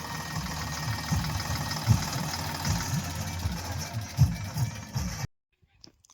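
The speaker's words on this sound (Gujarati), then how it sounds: "ટ્રેક્ટર અત્યારે આપણું આવી ગયું છે" A new farm tractor idles with a steady low chugging rumble and regular knocking pulses for about five seconds, then the sound cuts off abruptly into near silence.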